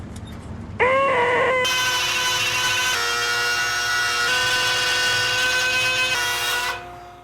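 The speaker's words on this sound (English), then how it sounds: "I'm going to first remove the bulk of the material with this straight bit" A woodworking router with a straight bit cuts through wood, whining loudly and steadily with strong high-pitched tones for about six seconds after a brief spin-up, then winding down.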